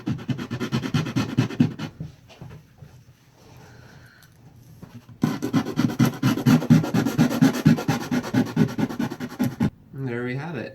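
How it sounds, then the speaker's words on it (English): A small sanding block rubs back and forth over a guitar bridge area, cleaning off old residue with a dry, rhythmic rasp in short bursts, close and fairly loud, with a brief quiet pause midway and a voice at the end. "So I'm actually going to clean that up with a small sanding block."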